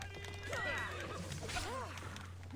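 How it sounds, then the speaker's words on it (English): A horse in the video game Assassin's Creed Odyssey gives a faint whinny, followed by a second rising and falling neigh, set over a low steady game hum with someone talking in the background. "here comes some dude on a horse"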